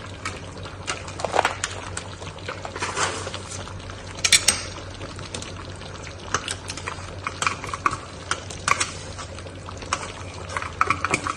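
Yogurt being stirred into mutton cooking in a pot for Arabian biryani, with wet stirring, clinks of a spoon against the pot and a low simmering hum throughout.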